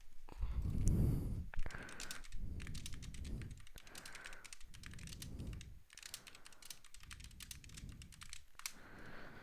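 Rapid keystrokes on a computer keyboard come in several bursts separated by short pauses. The taps sound close and fairly quiet, with a low rumbling background beneath them and no speech.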